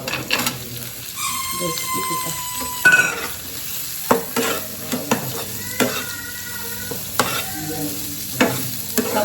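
Cashews and raisins fry in hot oil with onions in a pan for a flattened-rice pulao, making a moderate sizzle broken by spoon scrapes and clinks against the pan, with some faint tonal squeaks and no talk.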